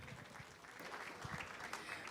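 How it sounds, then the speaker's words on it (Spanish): Applause from an audience at a Gyr dairy cattle field day in 2023 welcomes a doctor to the stage, faint and distant clapping with a few sharper individual claps. "Nuevamente el aplauso para recibir a la doctora Tatiane Drummond en esta mañana."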